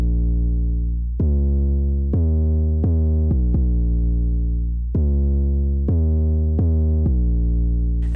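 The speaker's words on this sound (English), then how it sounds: "So the 808 bass line just ended up sounding like this." A distorted 808 bass line in a trap beat: heavy, booming sub-bass notes with gritty harmonics, played in a rhythmic pattern of sustained and quick repeated hits, loud and alone.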